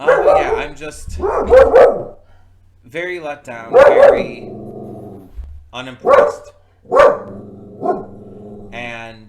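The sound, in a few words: dog barking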